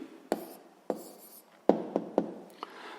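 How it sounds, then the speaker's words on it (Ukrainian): Handwriting on paper as an answer is written down for a physics exercise, producing a handful of close, dry pen scratches spaced irregularly with quiet pauses between them. "Записуємо відповідь."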